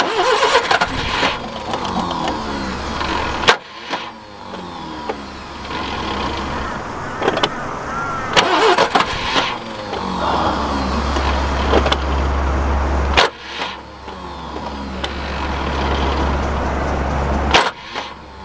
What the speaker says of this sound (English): That starter motor's annoying.